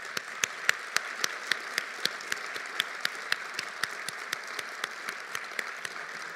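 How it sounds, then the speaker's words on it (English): Scattered, fairly sparse applause at an evening celebration, distinct individual claps ringing out rhythmically over a soft background, moderately distant and quiet. "Let's give her a round of applause."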